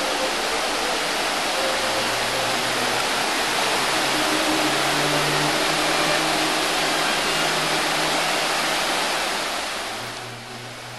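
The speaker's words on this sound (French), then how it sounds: "La cascade Galovaki." Galovac waterfall in Plitvice Lakes park, a steady broadband rush of falling water heard close and loud, continuous with a faint low hum underneath and no talk.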